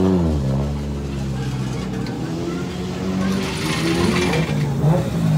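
Car with a Toyota 1J engine revving at a motorland track event, a loud, continuous engine roar that rises and falls, with background crowd noise and some talk.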